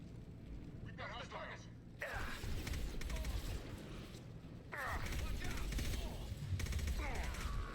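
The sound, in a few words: gunfire in the video game Mass Effect 2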